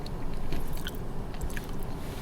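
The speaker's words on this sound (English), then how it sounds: "A little crispy as you bite in, but then it gets chewy as your teeth sink deeper into the macaron." A crispy yet chewy raspberry-jam macaron in Saint-Émilion, France, bitten and chewed close up, with soft crunches and moist chewing at a quiet level.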